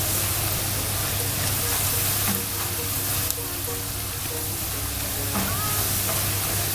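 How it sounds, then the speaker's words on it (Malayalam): Dry fruits fry in a pan for onion payasam, giving a steady, close sizzle and hiss throughout with occasional faint stirring scrapes. "ഇനി നമുക്കിതിലേക്ക് ഡ്രൈ ഫ്രൂട്ട്സ് ഒന്ന് ഇട്ടിട്ട് ഫ്രൈ ചെയ്ത് നോക്കാം"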